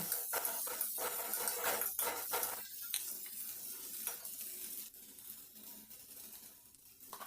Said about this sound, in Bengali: জিরে গোটা জিরে এগুলো দিয়ে একটু ভেজে নিচ্ছি আর দিচ্ছি কুচানো পেঁয়াজ কুচি